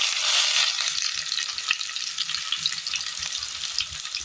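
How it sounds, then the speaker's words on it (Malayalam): Chopped beans dropped into hot oil with mustard seeds in a pan for a Kerala breakfast dish, giving a steady bright sizzle with scattered crackles and pops, close and fairly quiet, with no talking. "കടുക് പൊട്ടി വരുന്ന നേരം നമുക്ക് ഇതിനകത്തേക്ക് ബീൻസ് അരിഞ്ഞിട്ട് ഇട്ട് കൊടുക്കാം."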